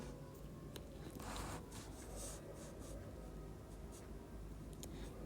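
Pen strokes scratch out an equation on paper or board, faint close scribbling in short bursts over a low steady background hum.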